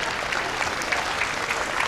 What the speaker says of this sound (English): a fair amount of applause for the young man from Whitefield as he picks up a single